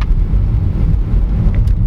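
A 2024 BMW iX3 M Sport electric SUV accelerates at full throttle with a loud, steady low roar of road and motor noise, close up and continuous.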